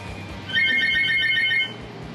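A parrot imitates a telephone ringtone: a bright, warbling electronic trill lasting about a second, alone against a quiet background.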